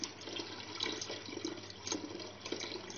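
Gram flour water is poured through a flour sieve for kadhi pakora, a soft, steady trickle and splash of liquid running continuously at low volume, close by.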